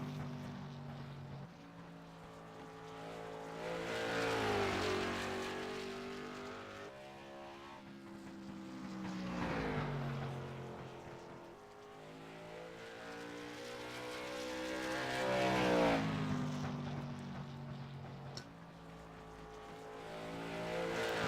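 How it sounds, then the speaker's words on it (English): A lone race car laps a track at night, its engine note rising and falling in long sweeping passes as it nears and recedes, steady and moderately distant with no voices over it. "Currently Stacy the only car out on track"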